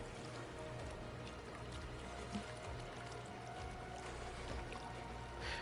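Waterfall in the game Ark, a steady broadband rush of falling water running without a break, with a low rumble underneath and faint scattered game sounds on top.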